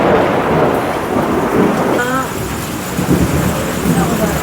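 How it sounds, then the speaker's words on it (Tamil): Heavy rain pours steadily, close and loud, while a deep roll of thunder rumbles through, with no one speaking over the downpour. "பயங்கர இடி இடிக்குது"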